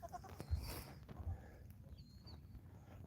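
A day-old baby goat gives a few faint, brief bleats outdoors, early in the clip, with quiet rustling around it.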